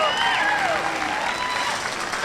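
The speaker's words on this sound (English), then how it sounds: "with the grand champion, Chloe Bunyak. Hey, give her a big round of applause." Applause from the crowd at a county fair livestock show greets a grand champion calf, a steady wash of clapping from many hands filling the space while a voice carries on over it.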